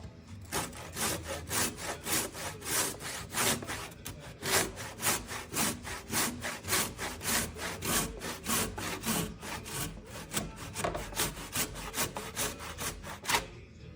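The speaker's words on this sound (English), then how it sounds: "So even in the automated shop, trusty little handsaw," A handsaw cuts through the end of an 8x8 timber with steady, rhythmic rasping strokes, close and loud, continuing alone for the whole stretch.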